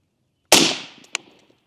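A single sharp rifle shot at an outdoor shooting range, loud and close, with a crack that trails off into a fading echo. A faint click follows shortly after.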